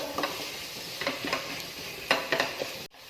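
Ground coriander powder stirred and fried in a pan for vegetable chicken curry: a soft, close sizzle broken by a few rhythmic spoon scrapes, ending abruptly.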